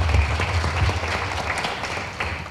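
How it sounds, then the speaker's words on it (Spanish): An audience applauds at a keynote conference in Mexico City, steady close clapping over a low background hum. "Un aplauso, por favor."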